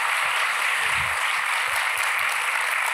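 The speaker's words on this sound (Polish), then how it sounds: "Dajcie brawa dla Ani." Steady applause from a gala audience, a dense even wash of clapping that runs throughout without voices.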